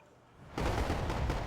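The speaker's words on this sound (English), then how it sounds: "That 100mm HE cannon is completely great" A 100mm HE cannon in the video game Wargame AirLand Battle: an abrupt loud report followed by a dense, sustained booming rumble, heard alone without talk.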